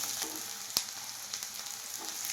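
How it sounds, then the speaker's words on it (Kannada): Onions frying in hot oil with cumin seeds, a continuous close hiss and sizzle with a single sharp clink of a utensil partway through and light stirring around it. "ಈರುಳ್ಳಿ ಸ್ವಲ್ಪ ಕೆಂಪಾಗುವವರೆಗೂ ಇದನ್ನು ಫ್ರೈ ಮಾಡಿಕೊಳ್ಳಿ"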